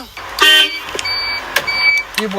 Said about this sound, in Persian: fangen an mit der Hupe